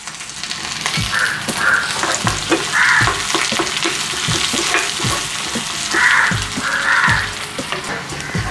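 Curry-leaf tempering sizzling in a pan for a white curry of beans and carrots, with steady loud frying crackle, sharp spoon or pan knocks at irregular intervals, and bursts of hissing flare.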